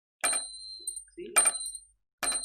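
Indoor doorbell, sounded from a house's distribution box as an electrical-fault alert, giving three separate bright ding-dong chimes with sustained ringing tones and short gaps, near and clear.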